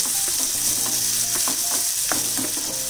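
Chopped onion frying in a pan for a besan sabji, a loud continuous sizzle close up, with scraping and rattling stirring noises throughout and no talk.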